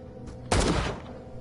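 A single loud, close gunshot fired in the horror video game Call of Cthulhu, a sharp burst with a short ringing tail, preceded by a faint softer sound.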